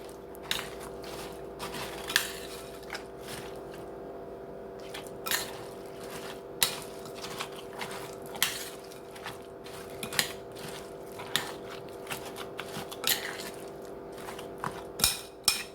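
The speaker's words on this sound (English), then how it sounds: "let's stir this all in there together." Hashbrown casserole ingredients stirred together in a bowl, giving a soft, wet squishing with recurring spoon scrapes and taps against the side at an irregular, steady pace, heard close over a faint constant hum.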